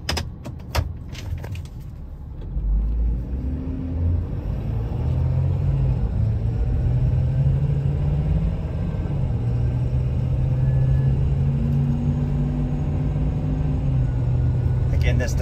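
A 2013 Ford F-350 4x4 dually pickup with the 6.7 diesel pulling away and cruising, a steady low engine rumble with rising and falling tones, after a few clicks and rattles at the start; no talk over it.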